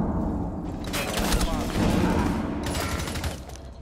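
Gunfire crackles through a Rainbow Six Siege match, with bursts of rapid automatic shots and heavier booms in clusters, while players talk over the shooting.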